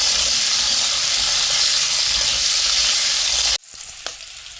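Kantoli vegetable stir-frying in a hot pan, a loud, steady, dense sizzle that cuts off abruptly into near quiet, followed by a single faint click.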